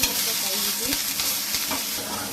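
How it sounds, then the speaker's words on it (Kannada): Dried red chillies frying in a pan for a greens sambar served with ragi mudde, a loud, dense, close sizzle that holds steady throughout with faint stirring and no voices. "ಇವಾಗ ಸ್ವಲ್ಪ ಫ್ರೈ ಮಾಡ್ಕೋಬೇಕಾಗುತ್ತೆ"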